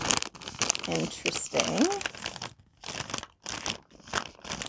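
Packaging being handled crinkles and crackles continuously and fairly close, with a person talking over the rustling.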